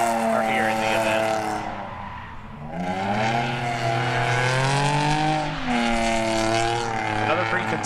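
Drift car tires squeal loudly and continuously during a Drift Indy Street League run, with a strained engine note rising and falling through the slides and a brief dip in the middle.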